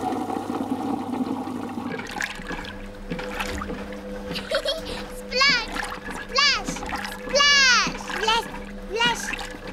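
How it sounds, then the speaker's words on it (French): Cartoon washing machine being switched on and filling with soapy water in a Peppa Pig kitchen scene, with gurgling, sloshing water and bubbly whooshing bursts over music while a voice narrates. "On met les vêtements là-dedans. Ensuite, on met la machine en marche et elle se remplit d'eau mélangée à du savon."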